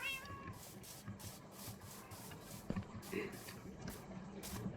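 Cats meowing in a video game, repeated meows spread across the clip over a steady hissing game soundscape, with no talk.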